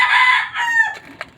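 A rooster crows once, loud and close, a drawn-out strained call that trails off, followed by a faint short cluck.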